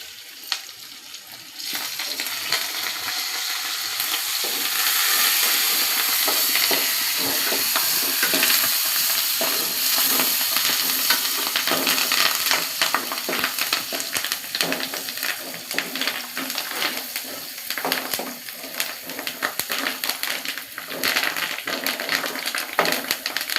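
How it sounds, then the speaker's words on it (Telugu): Onions and curry leaves fry in a hot pan for a tempering, a steady loud sizzle with occasional stirring scrapes running throughout, no talking. "కొంచెం మగ్గనిద్దాం ఉల్లిగడ్డలు. కొంచెం కరాపాకు వేసుకున్నాం."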